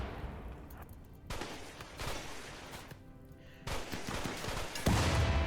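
Charge turret blasts away at mechanoids in the Rimworld video game, rapid gunfire-like bursts arriving in several clustered volleys, fairly loud, with no talking.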